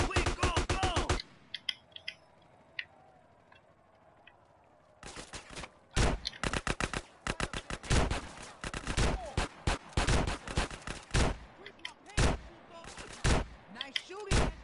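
Bursts of gunfire in GTA San Andreas on PS4 during a gang shootout: a quick volley, a pause, then dense rapid shots and rattling fire, loud and close, with voices shouting over the action.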